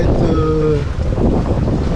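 Wind rushes loudly across a sailboat under sail at sea in a steady 10 to 11 knot breeze, buffeting the microphone, while a voice speaks briefly early on.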